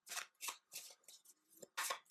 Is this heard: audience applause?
no